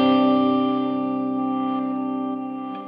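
Electric guitar chord sustaining through a Headrush effects unit's filtered reverse delay, low end cut near 500 Hz and highs rolled off near 2 kHz, with reverb on; a single loud ringing chord slowly fading and swelling over a few seconds.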